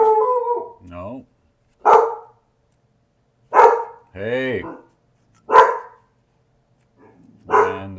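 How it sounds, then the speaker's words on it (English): Several dogs bark and howl in short, loud bursts separated by silent gaps, close by, with one brief spoken word. "And the dogs are mad about something."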